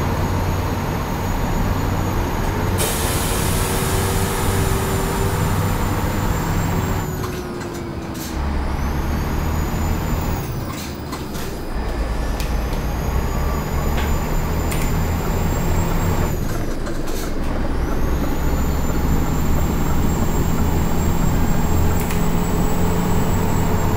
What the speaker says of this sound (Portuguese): Só o som do trânsito aí pra vocês verem aí.